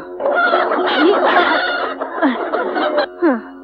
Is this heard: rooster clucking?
yes